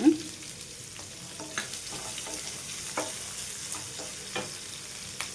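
Thinly grated onion slices frying in a pan with green chillies for a black-eyed pea gravy curry, a steady close sizzle broken by occasional stirring clicks.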